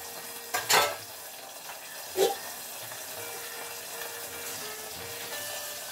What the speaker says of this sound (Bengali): এবারে এখানে জলটা ফুটছে